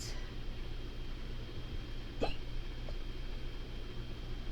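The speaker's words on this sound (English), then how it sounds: "I've got the hiccups" A single hiccup from a woman, one short sharp catch in the throat near the middle, heard alone against a quiet room hum.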